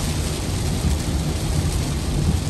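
Heavy rain drumming on a car driving along a flooded road, a dense, loud and continuous wash of noise with a low roar beneath, no voices.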